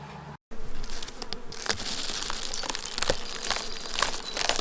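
Honey bees buzzing around an open beehive with supers, a dense, close, continuous droning hum with rising and falling swells, no talking.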